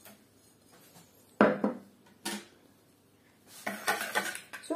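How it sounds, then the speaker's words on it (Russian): Egg batter with baking soda and salt stirred in a bowl: a few sharp clinks and scrapes of utensil against the bowl, separated by quiet gaps, then a busier cluster of clattering strokes. "Все хорошенечко размешиваем."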